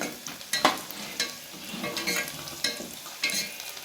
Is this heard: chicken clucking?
no